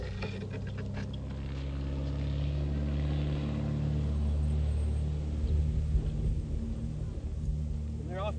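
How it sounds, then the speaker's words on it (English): Tow plane taking off with a glider in tow, a steady propeller engine drone and low rumble that builds and swells as it passes, with scattered clatter toward the end and a person talking over it. "There's the tow plane."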